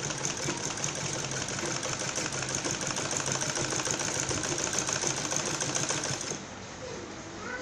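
A sewing machine stitches a neckline with a continuous fast, close mechanical chatter that runs for about six seconds before easing into a softer, slower hum.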